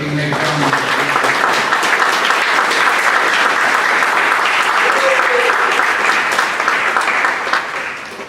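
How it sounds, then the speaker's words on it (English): Loud, sustained applause from an assembly audience honoring Mr. Husher and his family, dense clapping continuing steadily for about eight seconds before tapering slightly at the end. "I'd like to give a round of applause for Mr. Husher and his family for everything they've done."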